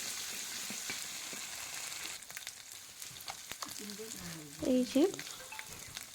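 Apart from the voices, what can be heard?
chopped onion with ginger and garlic frying and being stirred in a pan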